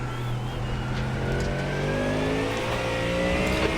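Porsche GT3 race car engines in an iRacing sim race wind through a series of S-bend corners, a loud, steady multi-car drone with rising and falling engine tones throughout, no talk over it.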